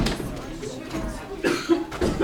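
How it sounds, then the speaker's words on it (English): A person coughs a few times in quick, rough bursts, close by, with some speech mixed in. "I couldn't stop coughing"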